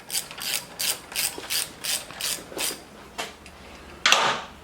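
A ratchet wrench turns out a seized bolt on a motorcycle toe shifter, giving close, rhythmic bursts of rapid clicking, about ten strokes in a row, ending with a louder metallic rattle.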